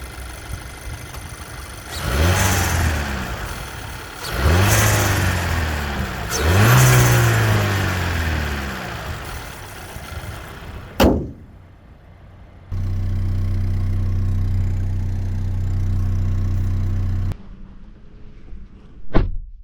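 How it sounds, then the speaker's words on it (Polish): A Volkswagen Passat B9 1.5 TSI four-cylinder mild-hybrid turbo engine revs up in three bursts, then settles to a steady idle with ticking injectors before a door thuds. "Tak ten silnik brzmi."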